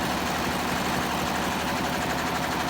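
A serger sewing machine runs continuously while gathering fabric, giving a dense, steady whirring hum with no break across the whole stretch.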